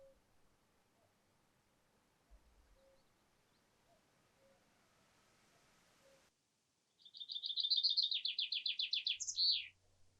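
Bird song in mixed woodland on the Isle of Rùm: a faint, quiet start, then a bird sings a loud, close, fast trilling phrase of repeated notes lasting about three seconds.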